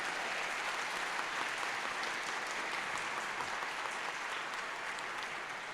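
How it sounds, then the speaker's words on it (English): An audience at a school board meeting applauds, a steady, even patter of clapping from a modest crowd, fairly quiet and unbroken throughout. "You could applaud."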